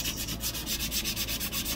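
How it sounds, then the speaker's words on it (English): Steady back-and-forth sanding scrubs across a painted farmhouse tag, a rhythmic series of close, even rasping strokes with no talking. "almost done with the sanding"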